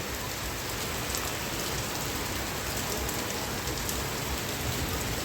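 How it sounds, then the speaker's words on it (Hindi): Steady, dense morning rain falls in Roorkee, hissing and pattering on nearby surfaces at a constant loud level with no breaks. "रुड़की की सुबह की अच्छी बारिश है।"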